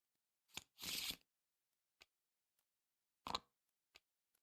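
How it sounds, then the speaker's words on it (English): Playing cards being shuffled back into a deck during a tabletop game of Arkham Horror: The Card Game, heard as one short riffling burst followed by a few faint, sparse clicks and taps. "This will get shuffled back in."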